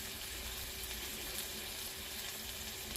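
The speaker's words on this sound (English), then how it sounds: "I saute the onions." Onions sautéing in a pan for a hamburger and tomato gravy, a steady soft sizzle and crackle held evenly throughout at low volume, with no talking.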